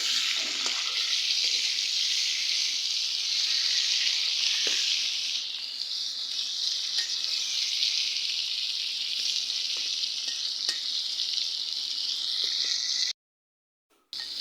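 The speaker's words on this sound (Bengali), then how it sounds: "তো এখানে মাছগুলো ভাজা শেষ" Fish sizzles loudly and steadily in hot oil, with faint crackles, until the sound cuts out briefly near the end.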